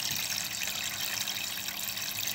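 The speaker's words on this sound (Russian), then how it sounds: "Самым настоящим образом бежит вода." Steady running water trickling through a model scene with a rotating mill, a continuous close splashing wash with no pauses and no voices.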